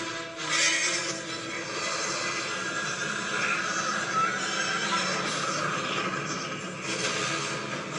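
A horse neighs and whinnies from a fantasy TV drama, the high call sustained over busy dramatic background sound and score for several seconds.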